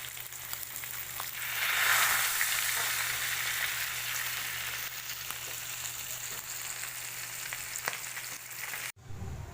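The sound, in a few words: pampano fish frying in oil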